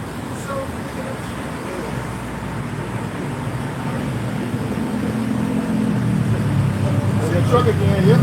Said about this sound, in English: Truck again, yeah.